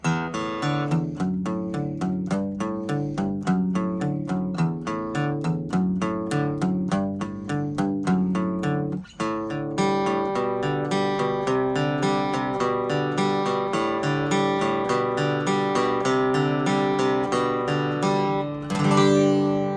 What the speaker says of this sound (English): That's our thumb picking song.